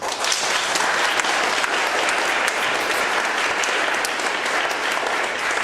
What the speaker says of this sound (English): So another round of applause for Elie Demota.